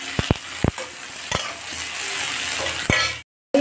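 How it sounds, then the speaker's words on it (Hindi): Onion and capsicum deep frying in hot oil for Manchurian, a steady loud sizzle with a few sharp clinks of a utensil against the pan, no voices, cutting off abruptly near the end. "इसमें अब कैप्सिकम डाल देते हैं, शिमला मिर्च, और इसको भी थोड़ा सा डीप फ्राई कर देना है"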